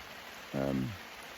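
Rain falls on a campsite with tents and a tarp as a soft, steady hiss, and a brief voice sound rises partway through.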